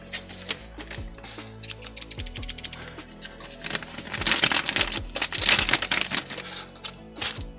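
Scissors snip open a plastic parts bag for a DeAgostini Lamborghini Countach LP500 S model kit, with close crinkling and rustling of plastic and sharp clicking cuts that grow louder and busier toward the end, no talking.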